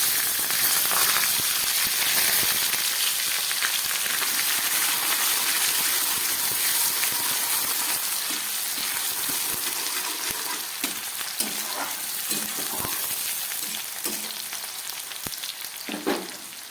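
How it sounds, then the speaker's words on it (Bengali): Chopped onions fry steadily in hot oil with bay leaves, giving a loud, dense, continuous sizzle with occasional crackles and pops throughout. "পেঁয়াজটাকে ভালো করে ভেজে নিচ্ছি।"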